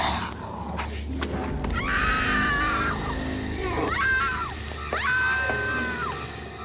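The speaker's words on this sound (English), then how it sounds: "Darla's screams here are so funny" High-pitched screams from the vampire Darla during a fight scene in Buffy the Vampire Slayer, three sustained wavering shrieks over background scuffling and music.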